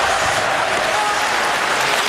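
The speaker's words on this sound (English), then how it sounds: "Crowd here urging their Red Wings." Arena crowd at an NHL hockey game between the St. Louis Blues and Detroit Red Wings, a loud, continuous roar of fans urging on the Red Wings, broad and steady with no breaks.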